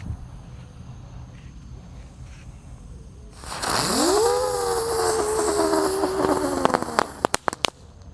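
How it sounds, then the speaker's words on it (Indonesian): A green-effect firework ignites with a rising whistle that settles into a steady hissing shriek, then ends in a rapid burst of sharp crackling pops. "Di sini ada mercon terate pratek yang warna hijau."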